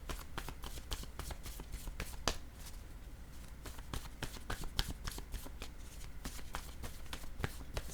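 Tarot cards being shuffled and laid down: a steady run of close, crisp riffling and flicking card sounds, soft but continuous, with brief slaps as cards land.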